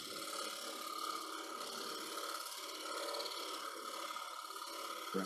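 A wood turning tool taking a light cut on a spinning lathe, a continuous close scraping, rasping whir with a steady hum, no talk.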